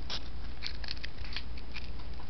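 Scissors snip through the plastic and metal of a Snapple bottle cap up close, a quiet run of small irregular clicks and crunches with no talking.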